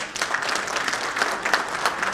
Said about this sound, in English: I think an immediate applause